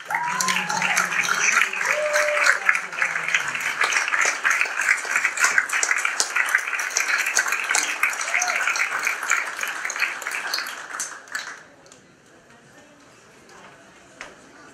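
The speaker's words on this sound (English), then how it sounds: "Please have a big round of applause for Tony Johnson." A hall of fame ceremony audience at Lynn Classical gives a long round of applause, dense and steady for about eleven seconds before dying away, with a voice speaking over it at the start.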